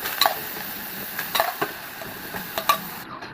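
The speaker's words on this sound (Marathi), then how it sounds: "नंतर पातेल्यामध्ये जी शिजलेली हरभऱ्याची डाळ आहे ती टाकायची आहे." Cooked chana dal is tipped into a pot and stirred, giving a few distinct scraping strokes against the metal over a soft, low sizzle, with no talking.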